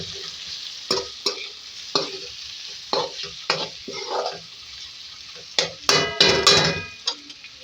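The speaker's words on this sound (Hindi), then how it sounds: "अच्छी तरीके से मिक्स करेंगे और टमाटरों को नरम कर लेंगे" Tomatoes being stirred and softened in a pan for an aloo baingan dish, with a series of scraping spoon strokes against the pan over a soft sizzle that grows busier and louder near the end.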